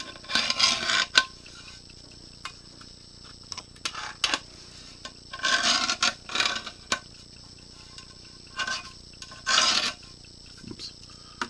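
A tool deburrs the edges of an aluminum plate in short, irregular bursts of metallic scraping, close up, with quiet gaps and small clinks between passes.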